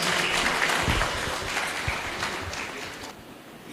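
An audience applauds after a Tamil poem recital at a Gandhi birthday poetry gathering in Trichy: a dense, fairly loud spread of clapping that thins out and fades near the end.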